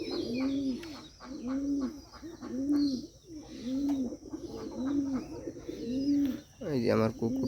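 Bombay pigeons perched in the sun on a roof, cooing close by in a steady series of low, rounded calls at an even rhythm, with a louder flutter near the end.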